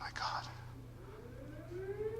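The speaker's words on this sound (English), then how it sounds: "you can hear the tornado siren in the background." A wailing tornado siren in the video game Fallout 4 rises steadily in the distance while a person speaks briefly over it.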